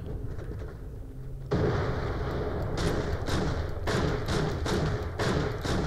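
A grenade goes off in a first-person shooter game, a sudden loud blast followed by a sustained roaring wash of noise with several sharp thuds and bursts of gunfire, no talk over it.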